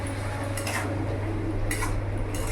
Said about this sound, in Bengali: এবার ভালো করে আমি নাড়াচাড়া করে নেব।